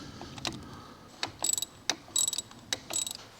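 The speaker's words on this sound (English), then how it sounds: "We can just grab our 13mm again and unbolt the slave cylinder from the gearbox." Clicking of a 13mm ratchet as it unbolts a clutch slave cylinder from the gearbox while a MK4 engine is pulled, heard as several short bursts of rapid close clicks separated by brief pauses.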